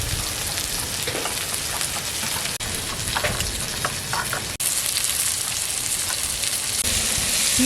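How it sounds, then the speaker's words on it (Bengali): Onions fry in a pan with a loud, continuous sizzle and crackle, broken by a couple of brief dips as the pan is stirred. "পেঁয়াজ ভাজা হচ্ছে"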